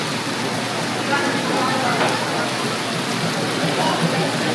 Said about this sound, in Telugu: బయట వాన వాసిపోతుంది